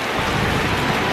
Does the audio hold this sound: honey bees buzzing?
no